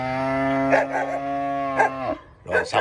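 A cow gives a long, loud moo with a steady tone lasting about two seconds, then a short follow-up low near the end.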